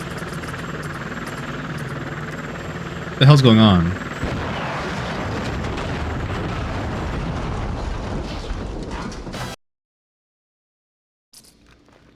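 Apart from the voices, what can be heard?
helicopter crashing into building and exploding, video game 007 Agent Under Fire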